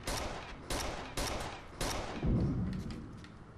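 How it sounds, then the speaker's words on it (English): Grenade blasts and gunfire in the video game Rainbow Six Vegas 2, heard as a run of sharp, loud bursts followed by a deep rumbling explosion, with no talking over them. "So grenade. One more grenade."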